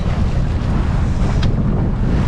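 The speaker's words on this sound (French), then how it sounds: "la mer est toujours formée. Toujours 11-12 nœuds de vent de face" Strong 11-12 knot headwind roars steadily over a sailboat on a rough sea off the Balearics, a dense continuous rush of wind buffeting the microphone with no voices.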